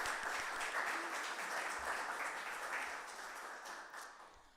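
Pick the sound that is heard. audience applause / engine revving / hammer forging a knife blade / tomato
audience applause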